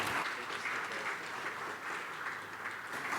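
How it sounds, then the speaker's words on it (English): Steady applause from an audience fills the whole stretch, a dense, even wash of many hands clapping without a break. "definitely well-reserved applause."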